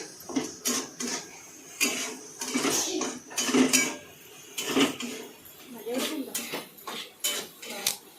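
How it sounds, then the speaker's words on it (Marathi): Soaked chana dal is stirred into frying onions and tomato in an oily pan, giving irregular clinks and scrapes of a spoon against metal close by, mixed with a faint sizzle and brief background voices. "ती भिजत टाकलेली चण्याची डाळ आपल्याला टाकायची। तिला पण मग कांद्याने ह्याच्यामध्ये हलवून घ्यायची।"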